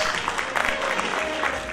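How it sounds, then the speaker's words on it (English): Audience applause at a hosted evening event closing program, a dense, steady patter of clapping from a crowd filling the room for a short burst. "another warm round of applause"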